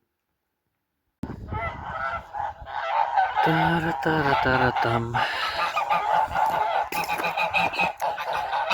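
Geese honking outdoors in a frosty winter yard, a loud, close flock calling repeatedly with harsh, rhythmic honks while a person chants nearby.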